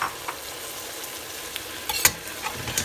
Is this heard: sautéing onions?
yes